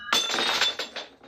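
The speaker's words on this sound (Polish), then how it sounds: "Zbiłem szklankę." A drinking glass shatters with a sharp crash, followed by a few bright tinkling bounces of shards fading out.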